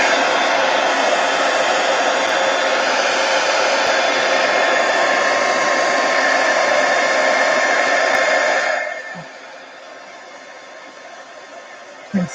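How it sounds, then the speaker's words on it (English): A heat gun blows loudly and steadily as it dries paint on an art project, a constant rushing whoosh that cuts off near the end, leaving quiet room tone and a small knock. "Heat gun."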